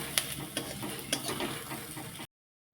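Maggi noodle ingredients and masala being stirred together in a pan, a continuous soft sizzle with scattered scraping clicks of the spoon, ending abruptly in silence.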